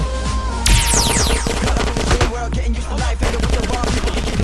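Automatic gunfire in the video game GTA San Andreas Multiplayer, rapid overlapping bursts of shots mixed with game effects, loud and close, continuing densely throughout with no talk.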